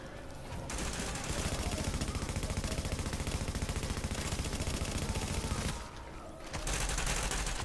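Enemy gunfire in The Division video game: a dense, fast rattling stream of automatic shots that runs almost without pause, briefly drops out near the end, then resumes, steady and moderately loud.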